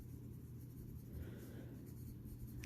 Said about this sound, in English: Anyways, we'll see how it writes.